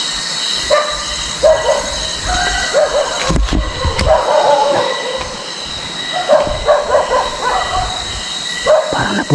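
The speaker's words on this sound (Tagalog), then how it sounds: "Nagkabok yun ng aso." A dog barks repeatedly in short bursts over a constant rumbling, screeching mechanical background noise.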